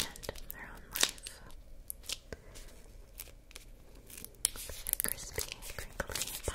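A crinkly book binding handled up close makes sharp, crisp crackles and rustles in scattered bursts, with quiet whispering between them.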